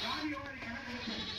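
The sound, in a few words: young goat bleating while being caught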